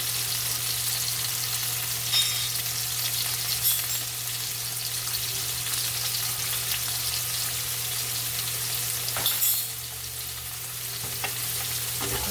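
Onion, garlic and achiote powder frying in oil for Filipino-style chicken sotanghon soup, a steady close sizzle with a few stirring scrapes over a constant low hum and no talking.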